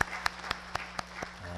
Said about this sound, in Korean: 뜨겁게 박수로 한번 하겠습니다.